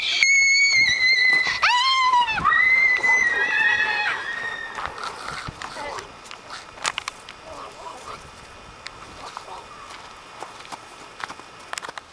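Outdoors in the wild, a horse gives a loud, close whinny near the start, then hooves and footsteps scuff and clop irregularly for several seconds, with some voices faintly mixed in.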